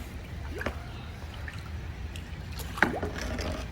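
A Wilderness Systems Ride 115 kayak is paddled through a shallow ditch about a foot deep. Soft, quiet water trickles and drips, with a slightly sharper splash near the end.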